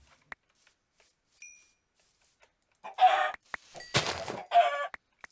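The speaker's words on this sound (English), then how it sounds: "Ooh, chickens." Chickens in a video game cluck in a few short, close bursts against near-silence, with scattered small clicks between them.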